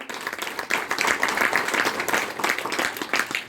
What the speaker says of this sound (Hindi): तो विनोद सर के लिए जोरदार तालियां।